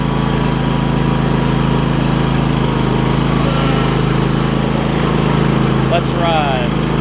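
A Craftsman lawn tractor with a Kohler Courage V-twin engine idles steadily up close, its low, even rumble continuous throughout with a small exhaust leak on the right cylinder, and faint whistly tones rise briefly near the end.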